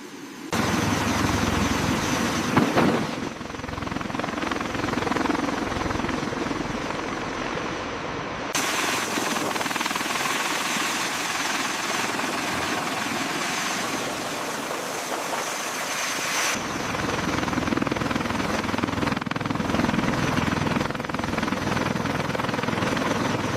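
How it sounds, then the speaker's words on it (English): Large US military helicopter with its rotors engaging and spinning up, a loud steady roar of engine whine and rotor chop that continues unbroken with no voices. "Initiating rotor engagement sequence."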